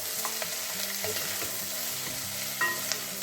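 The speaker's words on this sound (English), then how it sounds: "Just occasionally stirring it." Onions and asparagus frying in a pan with occasional stirring, a continuous bright sizzle broken by a few soft scrapes, close and fairly loud, no voices.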